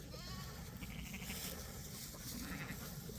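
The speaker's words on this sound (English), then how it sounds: "Lady's one of the original sheep I had, purebred St. Croix." A purebred St. Croix sheep bleats a few times outdoors on a farm, the wavering calls mid-range and moderately close over a constant low background rumble.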